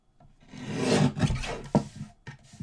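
A Tonic mini paper trimmer slices through card with a rasping, rubbing sweep, a sustained scrape rising and fading followed by a couple of shorter strokes, close and fairly quiet.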